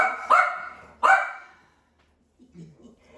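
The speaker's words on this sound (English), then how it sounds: "So this is my dog." A pet dog at home gives two sharp, fairly close barks about a second apart, then falls quiet before a few soft low whimpering sounds.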